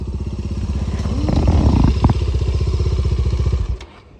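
A motorcycle idles nearby with a loud, steady rhythmic engine thump, a brief revving swell and some clatter in the middle, then cuts off near the end, with no talking.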